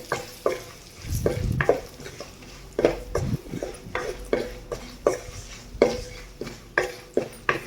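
Turmeric is stirred into tempering spices frying in oil for tamarind pulihora: a spoon scrapes the pan in repeated, regular strokes over a lively sizzle, each stroke sharp and close.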